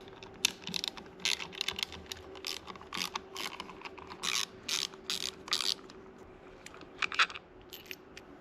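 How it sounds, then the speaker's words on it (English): A ratchet tool unscrews bolts on the control panel of a Can-Am Ryker. Rapid, close metallic clicking comes in uneven bursts of varying speed, with brief pauses between runs. "Remove this controlling panel by unscrewing 3 bolts"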